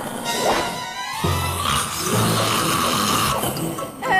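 Dame Fedora, a cartoon character, snoring loudly, with deep rasping inhaled snores broken by short whistling and snorting noises over about four seconds.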